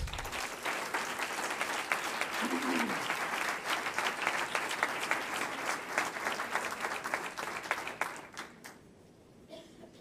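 Audience applause at an awards ceremony for entrepreneurship prizes in Fuenlabrada, a dense, loud wash of clapping hands lasting about eight seconds, then tapering off into a quieter room near the end.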